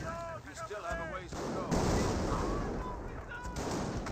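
Sniper rifle shots ring out in a Company of Heroes battle, with sharp cracks mixed into continuous booming gunfire and explosions while someone talks over the noise.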